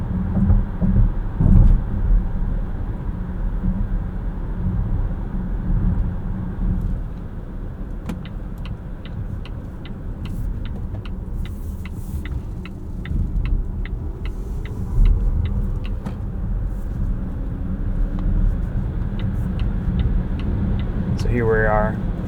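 A 2023 Volvo XC60 Recharge T8 plug-in hybrid in pure electric mode accelerates onto a highway, giving a steady low road and motor rumble with a faint rising whine, while someone talks throughout.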